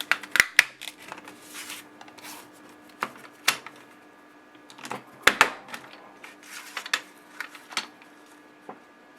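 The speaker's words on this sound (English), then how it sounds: "first punch a scalloped border on this" A Fiskars scallop border punch clicks and snaps through purple Stampin' Up! cardstock in a series of sharp, close, irregular presses, with paper rustling between them and no talking.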